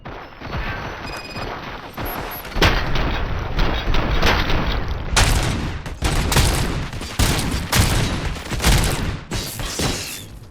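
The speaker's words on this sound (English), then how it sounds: "Fire at will." Heavy gunfire erupts in RoboCop: Rogue City, loud rapid volleys and booming impacts hammering continuously after a quieter lead-in.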